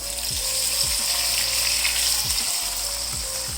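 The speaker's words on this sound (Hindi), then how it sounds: "सारी चीज़ों को ऑयल में फ्राई होते तकरीबन 2 मिनट हो गए हैं।" Steady, loud sizzling of spices frying in hot oil for a chicken gravy, a continuous crackling hiss with a few low knocks in the background.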